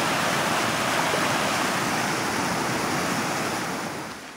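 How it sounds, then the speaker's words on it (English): Fast-flowing stream on the Appalachian Trail near Little Bigelow, a steady, loud rushing wash of water heard close by and alone, easing slightly toward the end. "Looks like the water's flowing pretty fast."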